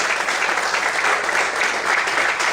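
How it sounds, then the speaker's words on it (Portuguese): A church congregation applauds during an evening service, a dense, steady wash of many hands clapping together at full volume with no voices standing out. "Você pode aplaudir o Senhor bem forte nessa noite"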